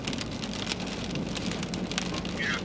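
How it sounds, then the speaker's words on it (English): Heavy rain pours down during a thunderstorm on a storm chase, a dense, continuous hiss of drops hitting the surface close by, with no voices. "Heavy rain."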